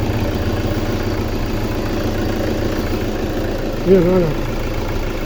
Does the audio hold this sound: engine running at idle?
yes